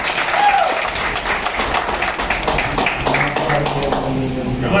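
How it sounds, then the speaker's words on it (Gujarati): Continuous applause from an audience at a business seminar, a steady patter of many hands clapping throughout with voices mixed in. "જોરદાર તાળી"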